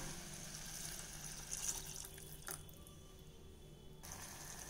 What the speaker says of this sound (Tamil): இப்போ நம்ம இதில் கழுநீர் தண்ணி விட்டுறலாம்.